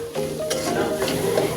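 Onions and minced meat frying for keema samosa, a loud close sizzle with a spoon stirring through the pan, steady over a short stretch.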